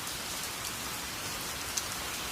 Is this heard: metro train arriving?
no